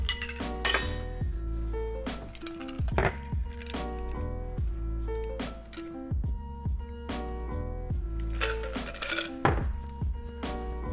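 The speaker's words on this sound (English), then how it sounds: "Now strain that into your chilled coupe glass." Cocktail strained from a mixing glass into a chilled coupe, heard as close, busy glassy clinks and knocks of ice and metal against glass throughout, with no talking.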